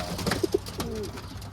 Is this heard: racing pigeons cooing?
yes